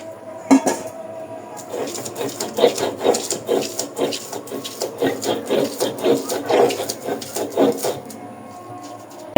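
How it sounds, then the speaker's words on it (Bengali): Mixed leafy greens ground on a grinding stone, a close, steady back-and-forth rubbing and scraping in a regular rhythm of repeated strokes, loud and alone. "এখন হচ্ছে আমি শাকটা বেটে নেবো"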